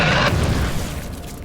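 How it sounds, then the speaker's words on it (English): A bomb squig blows up in Warhammer 40,000: Space Marine, a loud close boom that quickly decays into a rumbling roar, with no talking. "if they explode right next to you, they can actually virtually one-shot you"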